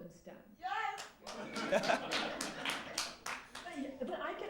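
Audience applause fills a keynote speech hall, a steady burst of many hands clapping mixed with cheers, moderately distant, while a voice speaks briefly over it.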